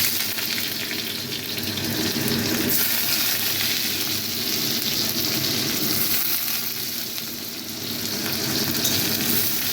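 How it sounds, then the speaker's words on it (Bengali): Chopped onion frying in hot oil with dried red chillies in a pan, a steady broadband sizzle that runs continuously and fairly loud, swelling slightly near the end, with no voices over it. "পেঁয়াজটা লাল লাল করে ভাজা হয়ে গেছে"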